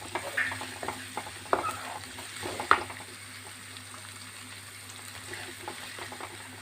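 Vegetables sautéing for vegetable cutlets give a steady low sizzle in a pan, with a few louder stirring scrapes and clinks near the start and no talking.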